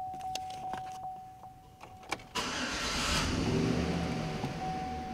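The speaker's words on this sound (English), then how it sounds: "Let's hop in and start it up." A Chevrolet Silverado pickup's engine cranks and catches partway through, then settles into a steady, fairly loud idle heard from inside the cab after a few faint clicks and thumps.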